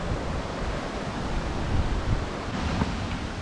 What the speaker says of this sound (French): À notre gauche, la rivière des Fleurs jaunes